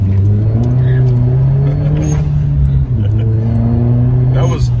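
A 2011 Hyundai Genesis Coupe 2.0T turbo pulls hard in first with a rising engine drone, then shifts into second and climbs again, loud and close, with someone talking over it.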